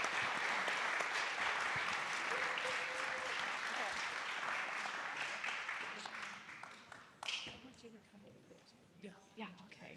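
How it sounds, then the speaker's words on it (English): Audience applause for panelists at a tech industry panel event, a dense sustained clapping that fades over several seconds as scattered voices and room noise emerge toward the end. "let's give a round of applause to our great panelists here."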